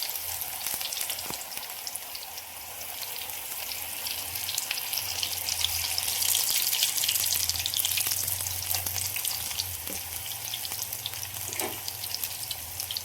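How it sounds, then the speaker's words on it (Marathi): Crispy spinach bhaji frying in oil over a medium flame, with a continuous close sizzle and bubbling, occasional faint clinks, and no speech. "भज्याचा तेल आपल्याला सोनेरी येईपर्यंत छान तळून घ्यायचे आहे"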